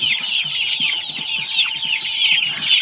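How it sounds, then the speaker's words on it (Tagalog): Heritage chickens, including Black Australorp, Rhode Island Red and Hubbard birds, cluck steadily on a farm, with rapid overlapping clucks and chirps close by and no voices present. "Malusog po yung ating mga alagang manok."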